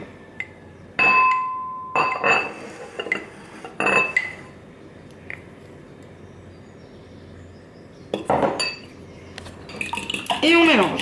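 A spoon mixes honey into a bowl of bowl-cake batter, making scattered clinks and scrapes against the bowl in short bursts separated by quiet gaps.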